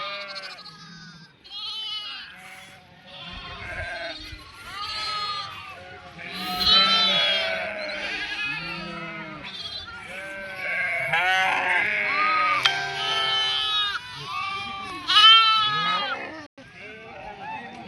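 Sheep and lambs bleat repeatedly at close range, several overlapping calls, while someone talks over them.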